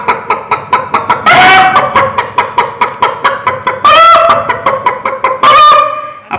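A mimicry artist at a state school arts festival imitates a hen calling a rooster at dawn, with repeated sharp clucks in a steady rhythm and three louder, drawn-out squawking calls, all close and loud.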